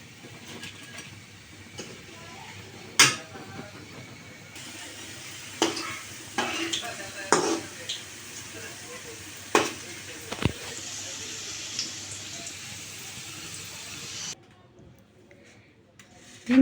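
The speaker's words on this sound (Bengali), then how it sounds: "অল্প জালে ভেন্ডিগুলো আমি ভেজে নিচ্ছি" Okra frying in a pan over a low flame gives a soft, quiet sizzle, broken by sharp clatters and scrapes as pieces are turned and lifted out, before a near-silent end.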